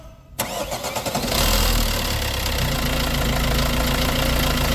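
An Opel Astra 1.3 diesel engine cranks and catches, then settles into a loud, steady idle with a rough, rattling timing-chain clatter running underneath.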